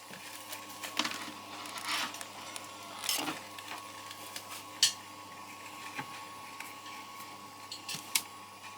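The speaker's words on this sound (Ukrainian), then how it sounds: "Плівка крутиться, грає без затримки" An AKAI 4000DS Mk2 reel-to-reel tape recorder runs with a steady low mechanical hum and whir, punctuated by scattered light clicks and ticks from the transport, close by and alone.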